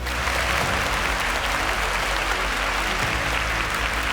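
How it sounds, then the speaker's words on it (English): Steady, dense applause from a quiz show audience at a science competition semi-final, loud and sustained throughout without any speech. "Please a round of applause for him"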